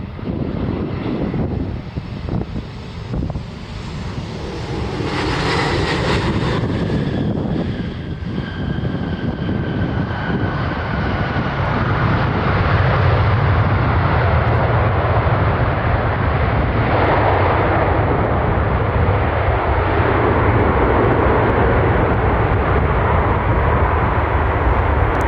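A United airliner arriving at Cleveland Hopkins International Airport from Dulles roars in loud and continuous jet engine noise, rising and swelling as it passes overhead, with wind buffeting the microphone throughout.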